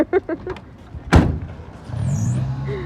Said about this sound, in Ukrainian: Ну, в смысле, закривай двери.